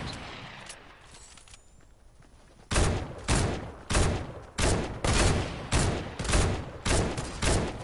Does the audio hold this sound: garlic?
no